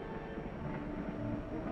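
A subway train rumbles past in a steady, continuous low roar with faint rail clatter, loud and close throughout, with no voices over it.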